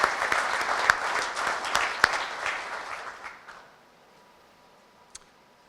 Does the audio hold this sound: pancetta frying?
no